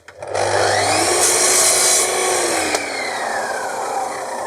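A miter saw set at 45 degrees whines up to speed and bites through wood for an interior door with a loud rasping cut, then its motor pitch slowly winds down.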